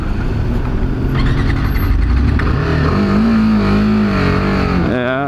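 A BMW G 310 R motorcycle rides through Saturday morning traffic, its engine droning steadily close by with rising and falling revs and a brief higher-pitched whine near the end, over constant road and wind noise.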